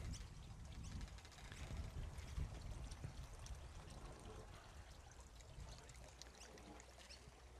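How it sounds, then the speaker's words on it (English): Water from two pipes draining a radial flow filter into the grow beds of an aquaponics system in a community garden, a steady broad rush and trickle, fairly faint and continuous throughout, with no speech. "So these two pipes here drain the radial flow filter into the beds."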